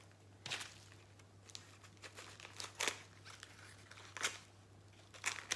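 Scissors cut open the plastic packaging of a diamond painting kit, producing a few short, quiet crinkling snips spaced apart against a faint background hum.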